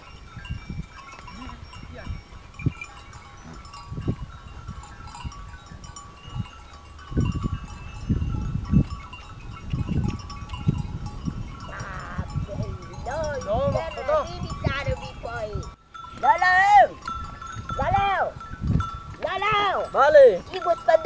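A flock of sheep and goats bleating repeatedly, with cowbells clanking among the animals and people talking nearby in a rural pasture.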